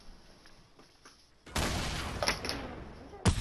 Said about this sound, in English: The noob is shooting random grenades, people!